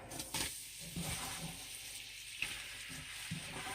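Stew meat for a drunken Irish stew frying in a pan, a faint sizzle broken by a few soft scraping and clinking stirs.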